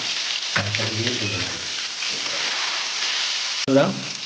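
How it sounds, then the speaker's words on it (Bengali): Turmeric-coated eggplant slices sizzle steadily in hot oil in a pan, with a sharp burst of crackling as more pieces hit the oil; someone talks over the frying. "সবসময় হিট তেলে বেগুন ভাজতে হয় তাহলে তেল কম লাগে"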